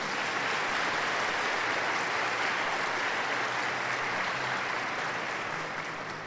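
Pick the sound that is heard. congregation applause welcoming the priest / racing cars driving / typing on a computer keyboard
congregation applause welcoming the priest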